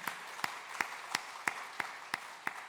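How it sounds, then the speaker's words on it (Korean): A church congregation claps for the worship band during a Sunday service: a sparse, fairly faint run of about eight evenly spaced claps, heard alone without talk. "박수 한번 쳐줄까요?"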